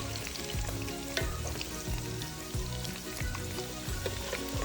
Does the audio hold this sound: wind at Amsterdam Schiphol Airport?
no